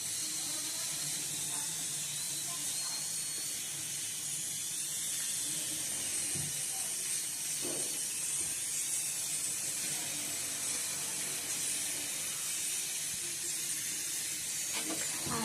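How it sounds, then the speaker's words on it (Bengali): Mustard sauce for a hilsa fish curry simmering in a pan, a soft continuous bubbling hiss with a few faint clinks, no talk. "ইলিশ মাছের ঝাল করবো, তার সর্ষেটা ফুটছে।"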